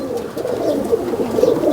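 Pigeons coo in a low, continuous burbling murmur, close and fairly loud, with several soft overlapping calls and no talk.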